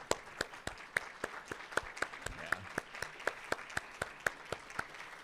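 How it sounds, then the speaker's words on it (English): Audience at an educator awards banquet applauding, heard fairly faintly as a crowd wash with regular sharp claps standing out near the front. "stand up and give yourselves a big round of applause"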